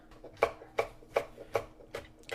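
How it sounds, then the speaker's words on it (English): A knife chops a serrano pepper on a cutting board in a home kitchen, six crisp, evenly spaced strikes at a steady rhythm, close and clear with no talking. "And now I'm chopping up this serrano."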